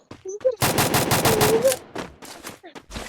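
Shotgun fire in a video game, a rapid burst of loud, close blasts with short gaps, then a few more scattered shots, mixed with brief game sounds and a faint voice.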